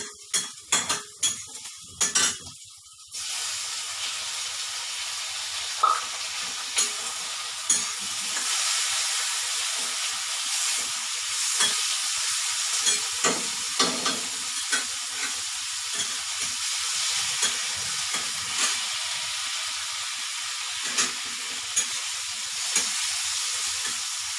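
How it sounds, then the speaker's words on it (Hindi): Chopped tomatoes for bread upma go into a pan with a few sharp clanks of a utensil on metal at first, then a steady sizzle with repeated spoon taps and stirring scrapes throughout. "अब मैं छोटे छोटे टमाटर की काटी हुई हूँ, इसे डाल देती हूँ।"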